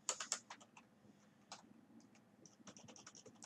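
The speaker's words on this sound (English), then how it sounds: "Then type in your name." Computer keyboard typing, a burst of quick close keystrokes at the start, then quieter scattered clicks and a final run of taps, faint and without talk.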